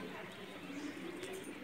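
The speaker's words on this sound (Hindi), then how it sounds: "ये मैली आँखों का कबूतर है" Faint, low cooing of a Pakistani pigeon against a soft background hum, brief and distant.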